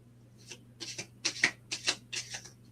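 Cards from a small plastic box are shuffled close to the microphone in six or seven quick, soft riffling bursts, with a faint hum behind them.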